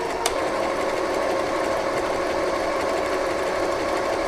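An FHSM-519 sewing machine runs at high speed, a dense, even mechanical whir and rapid needle chatter holding steady throughout after a single sharp click near the start.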